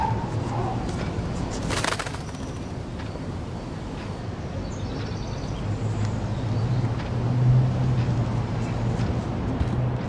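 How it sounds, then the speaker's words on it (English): A bird coos in the Life is Strange video game, soft repeated low cooing tones surfacing under a noisy ambient game bed with a sharp burst near the start. "look at the poor bird. He seems kind of freaked out"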